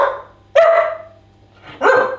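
A dog gives two loud, sharp barks close by, separated by a short pause, with no other sound around them.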